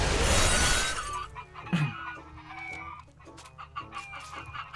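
Minecraft chickens cluck in a short burst of bird calls after a loud crashing, shattering noise at the start, with further game sound effects scattered through the rest.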